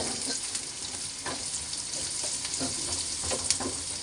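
Onions frying in hot oil for a loitta fish curry with yardlong beans, giving a steady, loud, close sizzle throughout with light stirring clicks and no voices.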